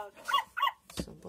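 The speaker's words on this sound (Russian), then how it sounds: "Dog." A Little Tikes toy tablet for toddlers plays a recorded dog sound: two quick, high yipping barks and then a short lower bark, small and electronic-sounding, close by in a quiet room.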